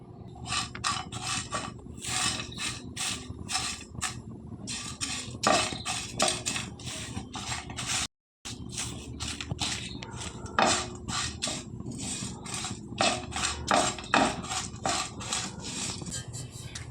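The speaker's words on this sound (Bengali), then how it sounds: "এই মশলাগুলো আমি কিন্তু এবার সুন্দর করে ভেজে নেব" Whole tea spices with a bay leaf and basil leaves are dry-roasted in a pan, giving repeated close scraping and rattling strokes of a spatula against metal in a steady rhythm, with one short break.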